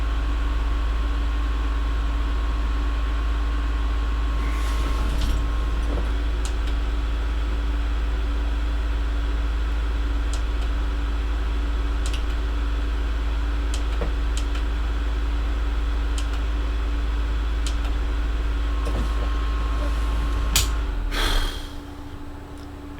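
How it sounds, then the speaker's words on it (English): Computer fan noise: a steady, loud, close whirr with a constant low hum and faint whine runs unchanged throughout, with a few small clicks and a brief shuffle near the end, and no speech. "fan noise."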